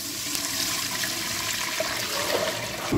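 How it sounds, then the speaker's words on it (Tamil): Water pours steadily into a large pot for mutton biryani rice, a continuous close splashing gush that holds at an even level throughout. "ஒரு படி அரிசிக்கு 2 படி தண்ணி சேர்த்துக்குவோம்"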